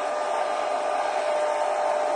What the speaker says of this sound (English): I'm just going to use my really battered mixed media hairdryer